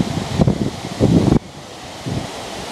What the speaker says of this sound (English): Wow's it windy.